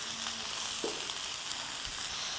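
Manioc stir fry with salt, turmeric, pepper and chili powder being stirred in a pan, a soft, steady sizzle with a couple of faint utensil knocks, fairly quiet and without talking.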